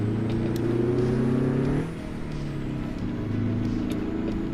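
Engine of a 1970s Fleetstar 2070A logging truck in a driving game, a loud steady low drone with layered harmonics that drops in pitch and eases off partway through as the old truck slows.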